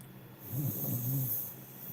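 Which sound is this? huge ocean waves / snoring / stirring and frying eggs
snoring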